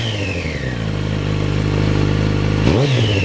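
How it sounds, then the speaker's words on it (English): Motorcycle fitted with a Remus exhaust idling steadily up close, then a single sharp throttle blip rising and falling near the end. "Just give the throttle a blip."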